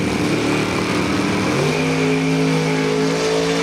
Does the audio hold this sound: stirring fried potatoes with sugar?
no